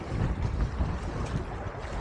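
Small fishing boat rocking on big sea swells during UK wreck fishing between storms, with steady wind buffeting the microphone and water sloshing against the hull, close and continuous, no speech.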